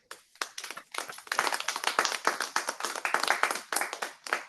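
A small group at a Toastmasters club meeting gives a round of applause to welcome a speaker. The clapping is moderately quiet, quickly swelling into brisk, dense claps, then thinning toward the end.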